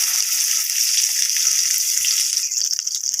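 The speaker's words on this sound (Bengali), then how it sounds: "ওই তেলের মধ্যে বেগুনগুলো ভেজে নেব।" Eggplant slices sizzle steadily in hot oil tempered with black cumin seeds, a bright continuous frying hiss close by with slight crackle, no voices.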